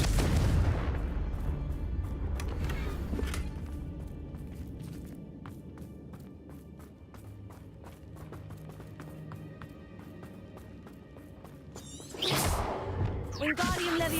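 A Confringo blasting spell goes off in the Hogwarts Legacy video game, a deep booming explosion at the start that rumbles and fades over several seconds, with another loud blast and crackle near the end.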